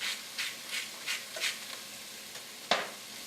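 Onions cooking in a soup pot give off a soft sizzle, broken by a run of brushing, scraping stirs and one sharper clink near the end, close and fairly quiet with no talk.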